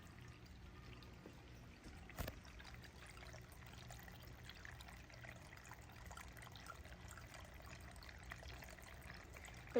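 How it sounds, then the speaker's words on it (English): Soft, steady trickling and bubbling water runs continuously at low volume outdoors, with one brief knock partway through. "it's so relaxing to sit out here and listen to the fountain, bubbles and all."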